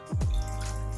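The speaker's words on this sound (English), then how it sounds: "So we are adding water, 300 ml of water." Water splashes into a saucepan, starting with a gurgling plop that drops in pitch, then settles into a steady low pouring stream, close by.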